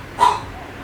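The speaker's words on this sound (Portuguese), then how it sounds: "Tem que parar aquele cachorro" A dog gives a single short bark at moderate distance, a brief burst against an otherwise quiet background.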